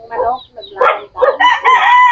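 A rooster crowing up close, a loud drawn-out cock-a-doodle-doo with clucking fowl just before, all within about two seconds.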